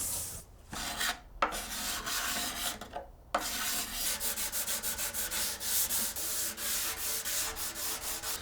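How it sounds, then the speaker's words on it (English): A hand scraper or hard block works lumps of cured epoxy off a guitar body during a luthier's build, making close rasping scrapes, first in a few irregular strokes and then in a quick, steady rhythm of short passes. "I'll use a scraper or a hard block to get those out now"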